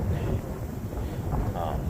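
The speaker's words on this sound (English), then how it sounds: "It's too windy to be cutting with this heat." Steady wind rushing and buffeting against the microphone near a wildfire, a continuous low rumble with no clear pauses.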